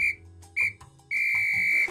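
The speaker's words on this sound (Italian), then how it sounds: "Triplice fischio." Three shrill whistle blasts from a single whistle at a home kitchen cooking segment: two short bursts followed by a longer, sustained third blast, loud and close with no talk.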